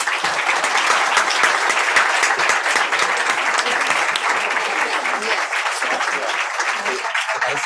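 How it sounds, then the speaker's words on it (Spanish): An audience at a talk on the role of scientists in European institutions breaks into loud, sustained clapping, a dense even patter filling the room for several seconds. "Vamos a darles un fuerte aplauso"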